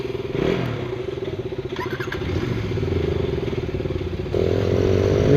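A motorcycle engine runs close by, idling with a steady rhythmic throb and then rising in pitch as the rider pulls away for a rainy off-road ride, with some clatter along the way.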